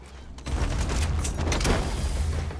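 Gunfire from Metal Gear Solid 5: The Phantom Pain, a sudden dense fusillade of rapid shots that breaks in after a quiet half second and keeps rattling, loud and close, through the rest, with no talking.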